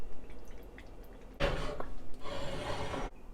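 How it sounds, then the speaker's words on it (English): Water is poured into a large stock pot over a whole chicken in two loud bursts of splashing, separated by a brief pause, with faint drips before and a quiet stop at the end. "Add enough water to cover it."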